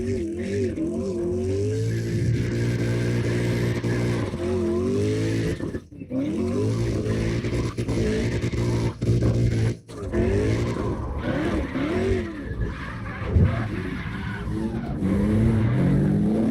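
Three cars drift in tandem in CarX Drift Racing Online, engines revving and tires squealing continuously with pitch sweeping up and down, loud and sustained with brief dips.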